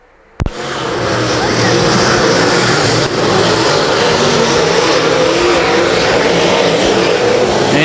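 Late model race cars roar past on a dirt oval during an MLRA race after a sharp opening thump, their engines a loud, sustained, distorted drone that barely shifts, close to the track.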